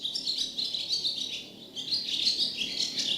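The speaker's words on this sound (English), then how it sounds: "The family noticed the bird with the crooked leg sitting on the clothesline and singing to them." A small songbird with a crooked leg, perched on a clothesline, sings steady bright chirps and twittering phrases, close and clear over a faint background, with a short pause midway.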